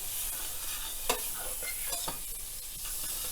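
Butter sizzling in a hot pan for cornbread fritters, a steady close frying hiss with a few brief clicks and pops over it, with no voices.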